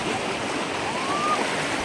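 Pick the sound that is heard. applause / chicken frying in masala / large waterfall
large waterfall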